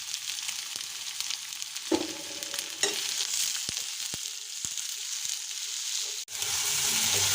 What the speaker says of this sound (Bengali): এবার আমি এর মধ্যে দিয়ে দিব পেঁয়াজ।